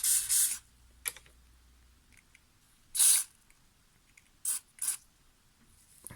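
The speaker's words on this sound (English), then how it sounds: "Spray some, any holes you can see, spray some stuff for it." Cleaner sprays in short hissing bursts into the carburettor holes of a Honda UMK425E four-stroke trimmer in bad condition, about five spurts of varying length separated by quiet pauses, close and crisp.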